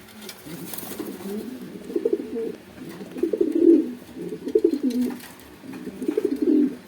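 Repeated low, throaty coos from a male pigeon in rhythmic bursts, fairly close and clear, with no talking over them.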